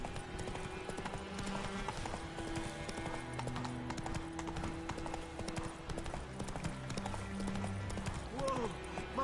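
A horse gallops along a road in The Witcher: Wild Hunt, its hooves clip-clopping in a quick steady rhythm close by, with game music, a whinny and voices talking over it.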